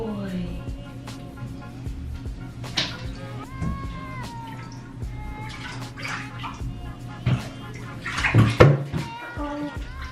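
A dog is bathed in a tub, with water splashing and running close by, accompanied by whimpers and a person talking, and a louder slosh near the end.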